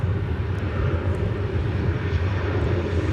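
A Boeing 787-9 Dreamliner lands on runway 17 left at DFW Airport, its jet engines a steady, loud broadband roar with a deep low rumble, continuous and unbroken throughout with no voices.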